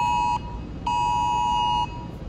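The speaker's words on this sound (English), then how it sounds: "I got a fucking Amber Alert." Amber Alert emergency tone blaring from a phone: two loud, harsh electronic beeps, a short one followed by a longer sustained one, close and alone with no talking.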